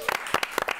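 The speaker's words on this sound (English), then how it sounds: "Big round of applause." Brief burst of audience applause at a comedy quiz night, a few sharp claps heard closely for under a second.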